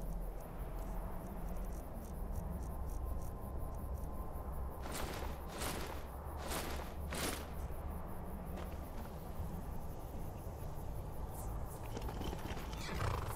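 A Dwarven Horse in Skyrim neighs and whinnies in several loud bursts over a constant rushing game ambience, with scattered hoof clops.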